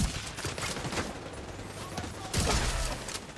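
Rapid bursts of gunfire in The Division 2 rattle out in quick succession, loud and close, with a sharp volley near the end.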